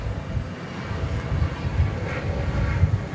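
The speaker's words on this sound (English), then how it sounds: "There's the A380." Deep, rumbling engine noise from an Airbus A380 airliner at DFW Airport, a steady low roar that swells slightly, with no voices.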